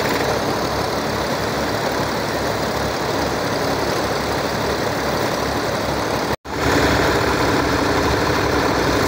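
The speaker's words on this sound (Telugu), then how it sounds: "మొత్తం 6 మోటార్లు అయితే ప్రజెంట్ రన్నింగ్లో ఉన్నాయి" Six water-pumping motors run together in a continuous, loud mechanical hum, broken only by a split-second cut before the steady drone resumes.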